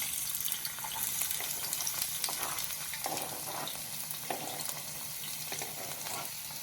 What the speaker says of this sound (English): after we chopped the onions and we chopped the garlic, we just put them in the pan with the olive oil